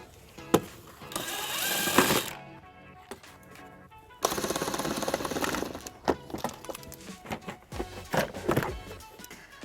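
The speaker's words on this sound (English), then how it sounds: "we're going to use a 14mm socket to remove the plastic nuts" A ratchet with a 14mm socket backs off plastic nuts on a 2016 Kia Sorento panel, producing close bursts of rapid clicking ratchet sounds separated by pauses and handling noises.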